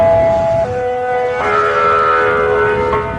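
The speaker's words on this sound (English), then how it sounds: "The first siren was tested and is operational tonight." Warning siren test at the Fernald uranium plant: a loud civil defense siren wails with a steady tone that shifts pitch partway through and holds.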